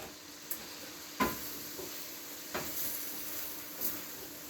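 Sliced mushrooms sizzling steadily in a hot pan for chicken cacciatore, a soft continuous fry with a few brief stirring clacks, close and fairly quiet, no talk.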